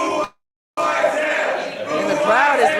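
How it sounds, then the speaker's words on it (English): Wrestling crowd in an arena jeering the champion, a dense sustained roar of many voices after a brief gap, loud and continuous with some shouting rising near the end. "the crowd is letting the champ have it"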